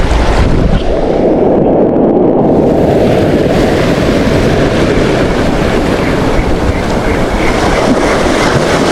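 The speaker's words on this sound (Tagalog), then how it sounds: "Lalaki ng alon, grabe." Big ocean waves surge against the shore at a Philippine shore-casting fishing spot, a loud, steady roar of churning surf that fills the whole stretch without pause, with no voices over it.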